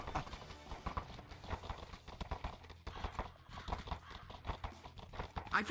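Horse hooves clip-clop in a steady, quick rhythm, fairly faint and continuous, with a few soft background noises.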